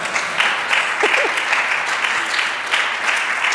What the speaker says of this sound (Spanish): Un aplauso, por Dios, dadme un poco de ánimo